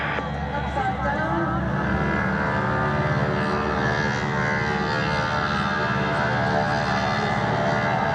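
Boeing Stearman biplanes with wingwalkers rolling for takeoff at the Duxford Summer Airshow, a steady loud radial-engine drone that holds throughout, with a commentator talking over it.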